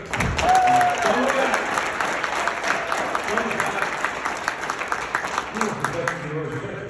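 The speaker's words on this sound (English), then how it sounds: "Huge round of applause, right?" A crowd applauds steadily, with voices talking and calling out over the clapping before it tapers off.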